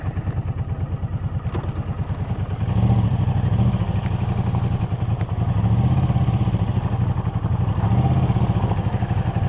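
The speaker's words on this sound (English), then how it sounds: "before I drop the bike on this gravel" A motorcycle rides slowly over gravel outside a nuclear power station, its engine thumping steadily at low revs with a swell of throttle, close and loud, with light crunching and clatter underneath.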